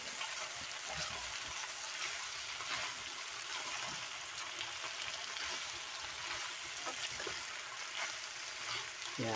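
A leftover breakfast scramble sizzles steadily in a pan as it is stirred, a soft continuous frying hiss with faint scraping, quiet and close with no talking.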